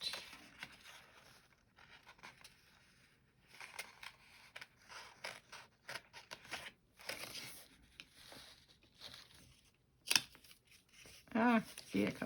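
Small sharp scissors snipping washi tape while working on a journal page, faint quiet clicks and rustles near the microphone with soft handling noise and a few louder snips toward the end.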